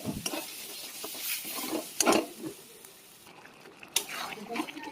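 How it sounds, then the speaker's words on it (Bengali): Boiled chickpeas and potato tipped into masala frying in oil for chhola ghugni, with a steady sizzle, a few splashy thuds and scraping stirs, and a voice speaking over it. "দেখো মশলাতে আমার তেল ছেড়ে দিয়েছে, এবার আমি ছোলা আর আলু সিদ্ধটা দিয়ে দেবো"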